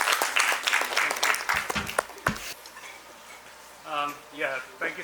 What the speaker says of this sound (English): Please give a huge round of applause for the last session of the day.